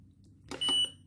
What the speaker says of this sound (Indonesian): Pada saat jam istirahat dia alarm lagi.